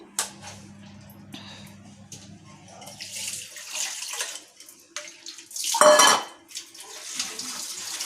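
Salted bitter gourds are rinsed in water, with splashing, sloshing and a running-tap rush alongside clinks of a utensil against a metal bowl. A low steady hum sits under the first few seconds, and the sounds come in irregular bursts nearby.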